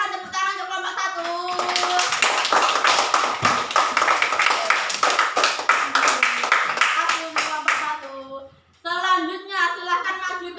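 Classroom of children clapping for a student group, dense steady hand claps running about eight seconds with kids' voices chattering over and after the applause.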